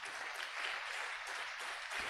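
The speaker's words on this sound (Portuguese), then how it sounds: "Dá uma salva de palmas para Jesus aí." A church congregation claps together during a worship service, a steady, moderately quiet wash of hand claps that runs throughout without talk.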